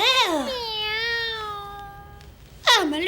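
A voice imitates a cat's meow: one long, wavering, drawn-out meow, then a short pause before a second meow begins. No other sounds are heard.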